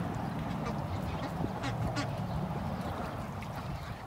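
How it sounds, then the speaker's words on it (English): Ducks quacking in a shared pen with chickens, a continuous dense chatter of overlapping calls from several birds at moderate distance. "the chickens don't mind the ducks being in the same pen with them"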